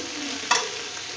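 Vegetable palya frying in a pan, a steady soft sizzle with a single quick scrape of stirring midway, close and alone.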